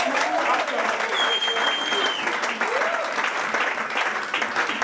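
A church congregation applauding at a pastor's ordination ceremony, a steady wash of many hands clapping, fairly loud and close, with voices calling out and a brief high whistle-like tone partway through.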